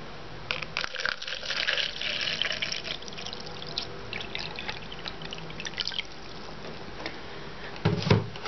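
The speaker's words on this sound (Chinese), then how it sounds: "先将一个空的透明杯子装满水" Water is poured into an empty clear cup for a salt evaporation experiment, a soft, steady splashing and trickling up close, with occasional drips and light clinks.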